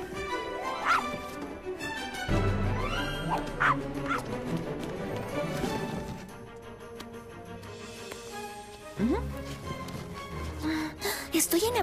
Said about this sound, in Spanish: ¡Buen perrito! ¡Perrito!